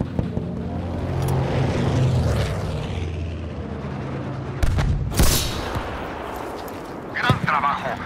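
Tank rumble and engine roar in a war video game, with blasts and gunfire mixed in and a loud burst near the middle, all under steady battle noise.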